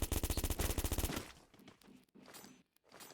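Rapid automatic gunfire from the Free Fire video game, a loud burst of about a dozen evenly spaced shots that cuts off abruptly, followed by faint scattered game sounds.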